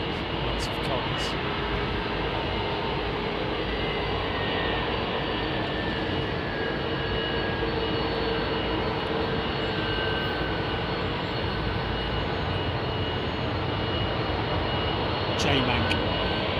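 Jet aircraft departing London Heathrow Airport, a loud steady engine roar filling the whole stretch without letup, with a person talking over it.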